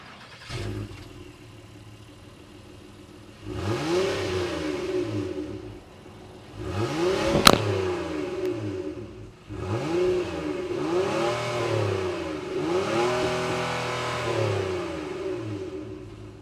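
A 2025 Honda Odyssey Touring minivan's 3.5-liter V6 engine cranks and starts, then revs up several times in repeated rising-and-falling surges, each swell building and easing back to idle, close and fairly loud.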